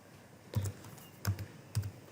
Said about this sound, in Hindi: तो यहाँ पे मैंने लिखना है तो यहाँ पे आ जाएगा इमरान खान